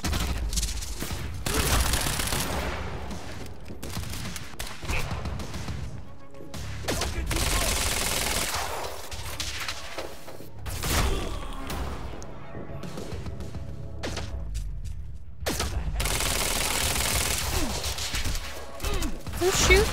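Gunfire in the video game Quantum Break, loud and nearly continuous bursts of shots and heavy impacts filling the stretch, with brief dips between volleys.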